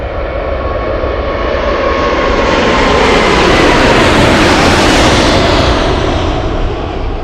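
Large airliner rolling down the runway on a long takeoff roll at Anchorage airport, a loud, steady engine roar that swells and sweeps past, heard alone without voices.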